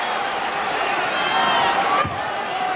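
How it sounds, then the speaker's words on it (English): Arena crowd noise during an NBA Finals game between the Chicago Bulls and Phoenix Suns, a broad steady roar of fans cheering throughout with a brief thump near the end. "Now the crowd trying to get the Suns into it early."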